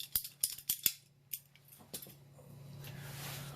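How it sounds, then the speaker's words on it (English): An Apollo pipe cutter slicing through heavy-duty double-wall reinforced silicone coolant hose gives a few sharp close clicks and snips in quick succession, followed by a softer crunching squeeze of the cut, with no talking. "I'll do a little demonstration cut here."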